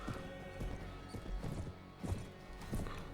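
Horse hooves clip-clopping in the video game Mount and Blade: Warband, a rhythmic run of muffled hoof thuds repeating at a steady gait over a low game background.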